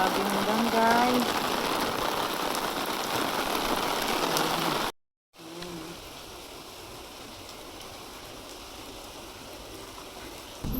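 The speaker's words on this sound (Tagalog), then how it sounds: "Grabe yung ulan" Heavy typhoon-season rain in Japan drums in a continuous wash of noise, broken by a brief silent gap, then keeps going a little softer with faint voices.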